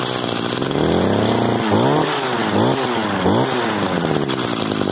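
A warm Stihl HS 45 petrol hedge trimmer runs close and loud, its two-stroke engine revving up and down several times in rising and falling bursts over a steady buzz.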